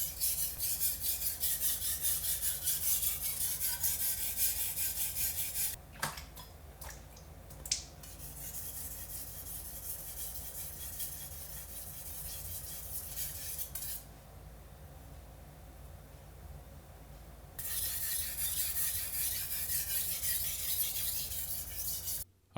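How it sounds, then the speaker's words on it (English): A Japanese knife blade rasps steadily across a whetstone in repeated pull-and-return strokes, close and fairly loud, with a few brief clicks near the middle and a short pause in the grinding before it resumes. "we apply pressure when we pull the blade towards us and no pressure when we go back up"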